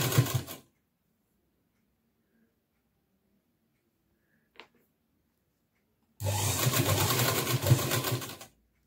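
A sewing machine stitches lace onto the front of a party-wear frock in two bursts, a short run at the start and a longer steady whir near the end, separated by near silence and one faint click.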